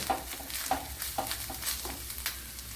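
Grated coconut roasting in a pan for pumpkin erissery, a steady dry crackle with regular stirring scrapes about every half second, close and moderately loud with no talk.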